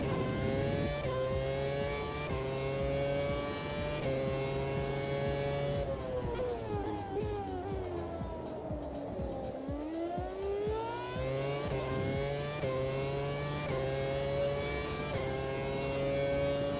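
A race car in a sim racing game holds a loud, continuous engine howl that climbs and drops in pitch through upshifts and a deep downshift under braking, and no one speaks over it.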